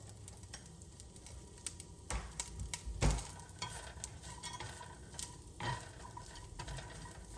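Diced Chinese sausage fries in a pan for special fried rice, a steady low sizzle broken by scattered ticks and scrapes of stirring, with a louder clatter about midway.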